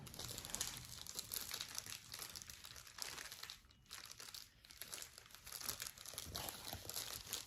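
A crinkly plastic package is handled and pulled open up close, continuous crackling and crumpling with brief pauses, and no talk over it.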